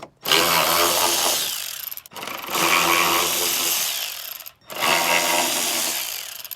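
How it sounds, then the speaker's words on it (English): A power tool drives out screws on a 2020-or-newer Ford F-250/F-350 tail light assembly using a 932 socket, giving three loud whirring bursts of about two seconds each, split by brief silent pauses. "So we have to remove these 3 screws to get to the bulb"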